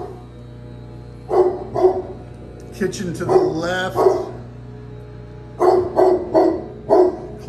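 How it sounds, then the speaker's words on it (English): A dog in a house barks repeatedly in short clusters of sharp barks with a whimpering, yelping stretch in the middle, while a person talks over and between the barks. "Beautiful dog."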